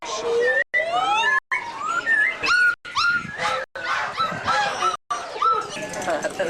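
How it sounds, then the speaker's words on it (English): Small dogs kept in cages at an Indonesian animal market yelp and whimper in a dense, overlapping chorus. High, sliding cries mix with bird calls, loud and close, broken by a few brief gaps. "Small doggies in cages."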